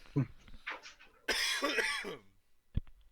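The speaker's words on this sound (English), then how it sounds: "excuse me again. I keep coughing." Close, harsh coughing fits, a few rough bursts followed by one sharp single cough, with no talking.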